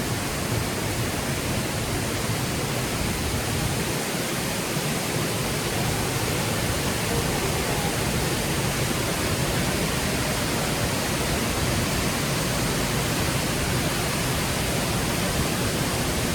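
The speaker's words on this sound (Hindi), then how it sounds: "वाटरफॉल चेक करो।" Waterfall at Jujjar in Himachal Pradesh's Karsog Valley pours in a loud, unbroken roar of rushing water that holds steady and close throughout, with no voices over it.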